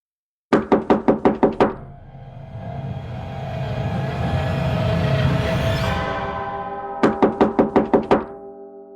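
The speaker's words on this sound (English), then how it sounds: "Someone banged on the door urgently." Two bursts of loud, rapid knocking on a door, about six hard bangs each, separated by a rumbling vehicle passing by.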